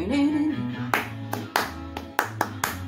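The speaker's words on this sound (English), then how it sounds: "I hope that the clapping helped to make that clear." Hand claps punctuate a song, with a few sharp, separate claps landing on the beat over the music's sustained tones and bass.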